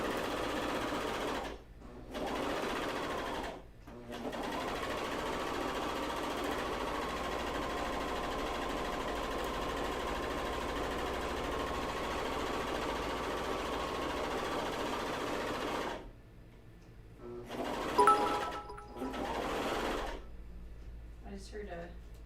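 A serger and coverstitch machine stitch underwear fabric in a steady, close, continuous mechanical whir that runs for long stretches, broken by brief pauses and handling noises near the start and end.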